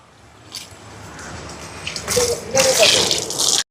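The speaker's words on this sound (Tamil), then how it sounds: "எங்களோட உலைக்கு தேவையான அளவுக்கு தண்ணியை நிறைச்செடுப்போம்" Water runs from a tap into a cooking pot set up for a large festival almsgiving meal, a steady splashing rush that grows louder and fuller as the pot fills, then cuts off abruptly.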